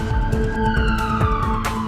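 An ambulance siren wailing steadily, loud and continuous with a sustained tonal sweep, heard from close by throughout.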